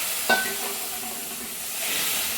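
Tomatoes frying in a pan sizzle with a steady, fairly soft hiss, opening with a brief clatter as they go in, then settling into an even crackle.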